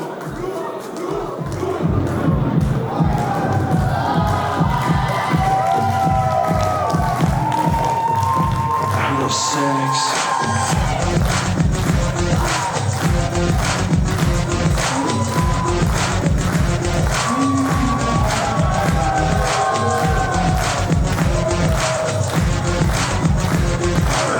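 Wrestling fans in a Frankfurt arena react during a dog collar submission match, a loud, sustained crowd roar with rhythmic clapping and cheering throughout, while a commentator talks over it.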